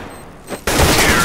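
A sudden loud gunshot burst from a weapon in Counter-Strike: Global Offensive, an AK-47 rifle duel, cutting in abruptly after quieter game ambience and then sustaining a dense, close, heavy crack with reverberant tail.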